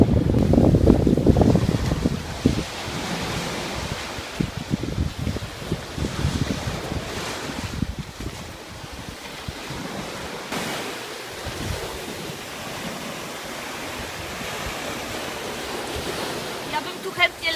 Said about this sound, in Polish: Mocno wieje.